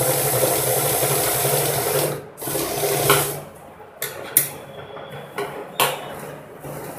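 A sewing machine joins the shoulder seams of a blouse, whirring steadily up close for about two seconds before breaking into shorter stop-start bursts and clicks as the fabric is adjusted.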